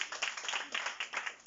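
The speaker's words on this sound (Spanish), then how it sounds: "Dame un aplauso, Señor." A church congregation applauds during a sermon, a brief burst of dense, fairly faint clapping from many hands.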